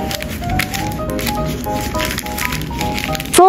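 Baking paper is folded into a parcel around raw chicken wings in a home kitchen, giving close, crinkly rustles and soft taps throughout that end in a brief squeak.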